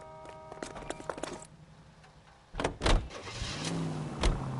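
A car in the video game L.A. Noire, with clicks and mechanical whirs at first, then thumps and a rising engine growl as it pulls away, moderately loud.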